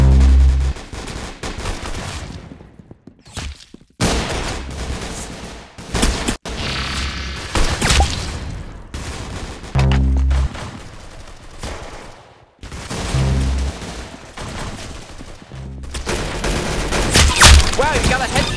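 Rapid gunfire from a video game, with bursts of shots and heavy booms cutting in and out over continuous in-game music and effects. A voice can be heard intermittently.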